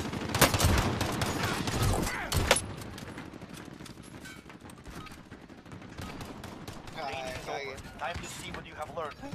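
Bursts of gunfire in the online shooter Call of Duty Warzone, with loud sharp shots near the start followed by continued rapid firing and game sounds, while voices talk over it.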